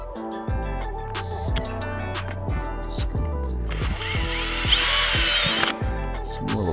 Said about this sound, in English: I always like to have the outside sheet pre-drilled.